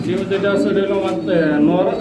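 Pigeons cooing at a fancy pigeon breeder's loft, low throaty coos close by, overlapping with someone talking.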